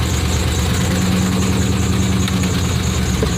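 Engine of an 88–98 Chevy Silverado pickup with a vacuum leak and an exhaust leak, idling roughly with a steady, close, rumbling drone and no voices.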